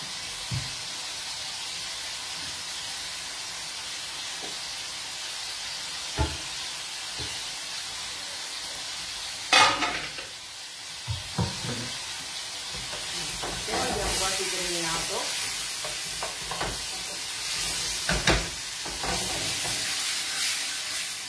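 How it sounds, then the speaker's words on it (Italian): King prawns and vegetables sizzle in a pan on an Italian cooking show, a steady hiss of frying under bursts of stirring and scraping, with occasional louder clatters and faint voices nearby. "adesso facciamo rosolare per bene"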